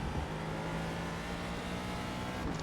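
A Ford GT2 race car in iRacing at Silverstone roars with a steady, loud engine drone that barely changes throughout, with no talking.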